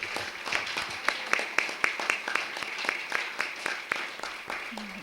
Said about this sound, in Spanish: gracias a la maestra Rosalba Cortés Viveros, un fuerte aplauso para ella.